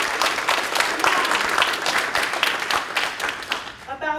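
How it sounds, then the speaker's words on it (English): An audience at a poetry event applauds with sustained, dense clapping that holds steady for several seconds before thinning out at the end. "Let's give them a round of applause."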